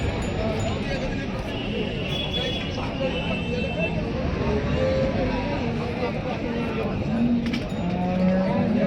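Bulls and cattle at the Saturday Chakan cattle market: a dense, loud crowd din with occasional lowing and animal sounds mixed in, while people talk and haggle close by throughout.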